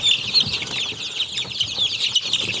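A dense, steady chorus of many home-raised chicks cheeping close by, high and continuous, with some soft fluttering and scuffling as the chicks make their way down.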